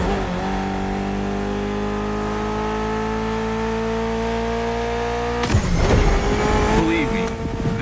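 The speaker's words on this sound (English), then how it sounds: "Mitsubishi gave us a nice inline four-cylinder with already 280 horsepower." A Mitsubishi inline four-cylinder engine of 280 horsepower, tuned for gymkhana in The Crew Motorfest game, holds a steady high rev, then cuts off abruptly into a rougher burst of noise and tire squeal, loud and up close.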